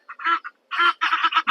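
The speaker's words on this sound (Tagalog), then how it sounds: "Wild duck sila, ayun, oh." Wild ducks at a lake park give loud, close nasal honking calls, a short burst followed by a rapid run of several quacks with no talking.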